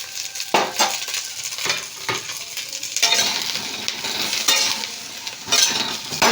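Potato and cauliflower pieces sizzle in hot mustard oil in a pan while a spoon scrapes and stirs them, bursts of frying hiss mixed with metallic clinks.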